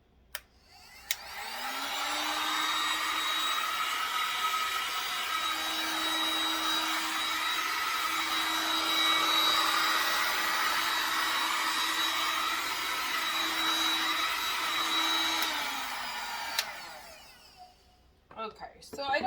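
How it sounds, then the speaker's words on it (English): A heat gun blows on paint in a wood blown art piece, giving a steady, loud, close whooshing drone with a faint fan whine that runs for about fifteen seconds before switching off. "Glad I got this heat gun."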